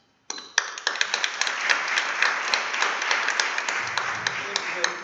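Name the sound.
audience applause for the Teacher of the Year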